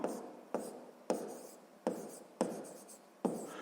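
A pen scratches across paper while a sixth-grade math solution is written out, in short repeated strokes with brief pauses between them, close and quiet.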